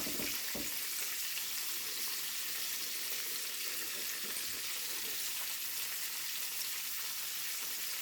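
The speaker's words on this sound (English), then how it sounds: "And just drop it in the grease." Corn fritters cook in hot grease with a constant, dense crackling sizzle that holds at an even level from start to finish, with no talk over it.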